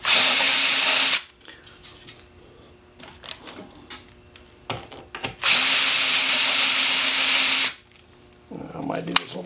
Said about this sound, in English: I'm going to go ahead and chamfer these